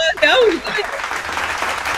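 A crowd claps in a dense patter of applause, with a voice calling out over it at the start.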